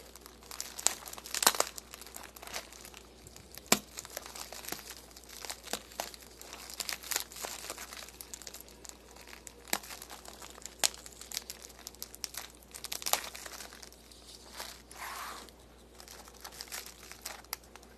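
Crystals package being opened: tape is cut and wrapping crumpled and crinkled in repeated bursts of rustling and tearing at close range, with short sharp crackles scattered through and no talking.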